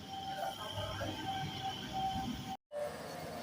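A Canning local train arrives at Bidyadharpur platform with a steady rumble and rolling wagon noise under a faint tonal whine, broken by a short dropout before the rumble resumes.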